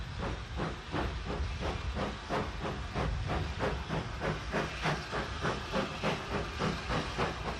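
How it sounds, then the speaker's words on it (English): Maunsell Mogul steam locomotive pulling a stopping train out of Paddock Wood station, a steady loud hissing of steam with rhythmic chuffing beats pulsing through it as the engine gets under way, no voices. "A Maunsell Mogul on the stopping train leaves Paddock Wood almost simultaneously with the train for the Hawkhurst branch."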